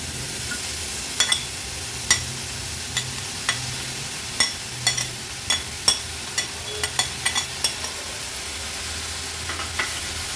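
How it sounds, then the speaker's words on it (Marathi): Finely chopped fenugreek leaves added to onions and turmeric in a hot pan over medium flame, a constant close sizzle broken by a dozen or so sharp scraping stirs at an irregular rhythm. "आता ही बारीक चिरून घेतलेली मेथीची भाजी आपण ऍड करूया।"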